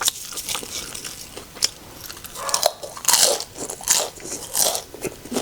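Crunchy microwave nachos being bitten and chewed close to the mic in a mukbang, with sharp irregular crunches and crackles repeating through the stretch and no talking.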